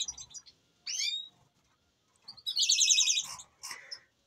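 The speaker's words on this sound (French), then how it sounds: "Regardez le chardonneret, le panaché, mon mâle panaché là, avec la femelle gorge blanche là-bas." Captive goldfinch and mule finch birds call in bursts of bright, high chirps and twittering song, with a sustained trilling phrase in the middle; close and fairly clear against quiet background.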